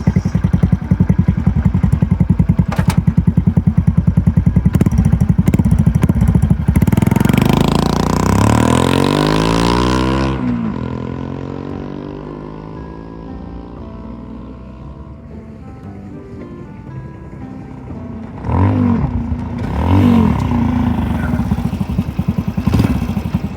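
Honda Super Cub 90 DX motorcycle accelerating hard, its small single-cylinder engine climbing through rising revs and gear changes, fading away into the distance, then returning loud and close.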